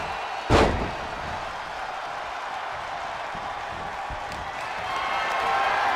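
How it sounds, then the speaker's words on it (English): One heavy, loud slam of a wrestler being body-slammed onto the ring mat in a wrestling video game, a short thud followed by steady crowd murmur. "Gets slammed down."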